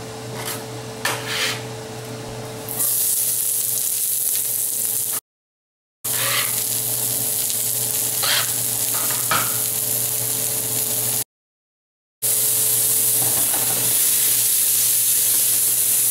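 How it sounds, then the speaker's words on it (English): Onions and garlic sizzle in clarified butter in a hot pan while a high-heat spatula scrapes and stirs, loud and close, with steady frying hiss and brief gaps. "I'm putting 2 ounces or less of clarified butter. Starting with my onions and garlic together."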